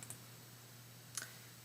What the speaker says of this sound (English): I'm going to right click, change background.